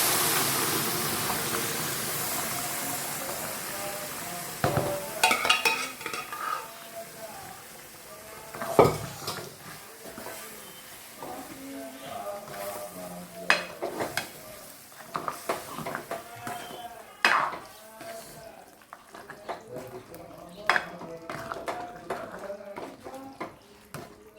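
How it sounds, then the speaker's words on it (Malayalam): Cooked beef poured and stirred into a simmering beef bone curry: metal spoon scrapes and clanks against the pot come in irregular bursts over a soft sizzle, close by, with occasional louder knocks. "ഇപ്പം നമ്മൾ വേവിച്ച് വെച്ചേക്കുന്ന ബീഫ് ഇതിനകത്തോട്ട് ഒഴിച്ച് കൊടുക്കാം"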